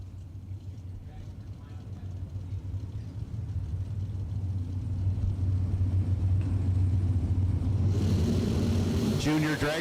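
Dragster engine rumbling at a bracket-racing drag strip, a steady deep low-pitched idle that grows louder, with a sharper burst of noise near the end.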